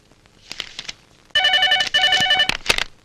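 A telephone rings in two long electronic trilling bursts separated by a short gap, close and loud, with faint murmurs and clicks before and after.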